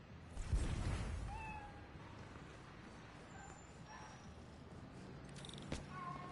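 A cat meows in the Spider-Man Miles Morales video game, with a few short, faint meows and chirps over a soft, busy game background. There is one louder thump near the start.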